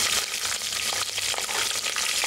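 A small whole green chili hits hot oil in a pan with whole garam masala, giving a loud, continuous hiss and crackle of frying with soft stirring underneath.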